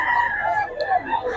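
A rooster crows in a loud, drawn-out, wavering call close by, with other voices chattering in the background.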